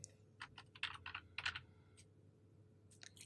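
Quick bursts of keystrokes on a computer keyboard while editing a cell in an Excel spreadsheet, a few irregular clusters of clicks close up, then a short pause and a final pair of taps, with no talking.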